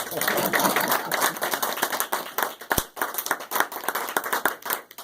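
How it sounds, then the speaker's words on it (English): An audience at a family center event claps in loose, uneven bursts, with distinct individual hand claps standing out, close and moderately loud, with no clear speech. "Let's clap"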